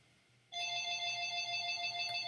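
After half a second of near silence, a telephone starts ringing with a steady electronic tone that continues to the end, moderately quiet in a still room.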